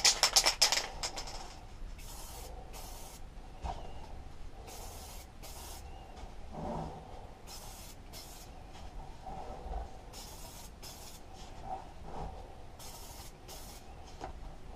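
Red fuel-resistant varnish hisses from an aerosol spray can onto Kawasaki TF22 hedge cutter parts in short repeated bursts, fairly quiet, with pauses between passes.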